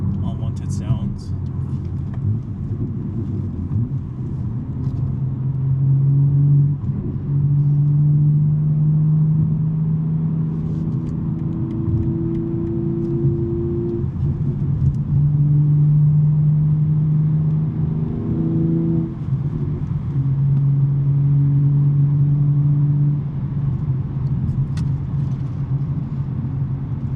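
Steady exhaust rumble and engine drone from a BMW M3 with a six-speed manual gearbox on a drive, with rising and falling revs and a persistent rattle, while people talk over it throughout.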